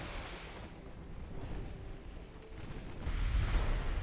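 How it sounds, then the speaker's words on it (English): Distant naval gunfire rumbles and booms as shells hit a battleship in the Ultimate Admiral Dreadnoughts game, a low continuous roar with a heavier impact thud swelling near the end, no voices. "That was a battleship hit, but it didn't really do that much."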